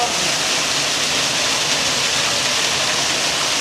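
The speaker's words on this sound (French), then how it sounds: "Et nous voilà au-dessus de la cascade." A waterfall roars from just above the cascade, a loud, dense, unbroken rush of falling water with no let-up.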